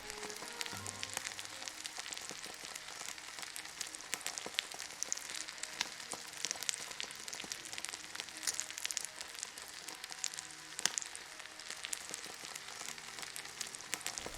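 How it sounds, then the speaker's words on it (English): Bacon fries in a pan in a time lapse, a dense continuous crackle and pop of spitting fat that sounds almost like rain, steady and fairly faint with no talking. "enjoy this quick time lapse of bacon cooking"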